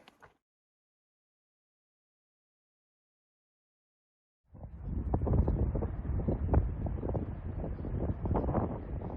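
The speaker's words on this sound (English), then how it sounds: "The wind is heavy." Strong wind on an exposed hiking trail roars into the microphone after about four seconds of near silence, a loud continuous buffeting rumble with gusty surges that carries on to the end.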